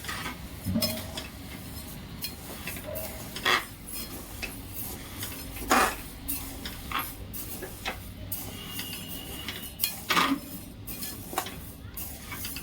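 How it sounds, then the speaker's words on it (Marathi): Urad dal dry-roasting in a hot kadhai, stirred steadily: soft scrapes and occasional sharper clinks of the spoon against the metal recur over a low background, fairly quiet and close. "कढई छान तापली आहे, आता त्यात ही डाळ घालून घे।"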